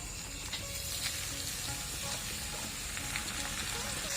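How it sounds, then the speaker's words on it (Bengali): Washed broken atap rice grains fry in a pan, giving a constant close sizzle with scattered crackles and light stirring scrapes, no talk. "এখন আমি খুদগুলোকেও ভালো করে একটু ভেজে নেব"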